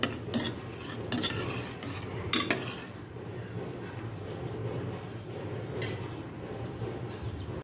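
A spoon clatters and scrapes in a pan as salt is mixed into Chettinad keerai kootu, a few quick metallic strokes early, then a soft steady simmering hiss.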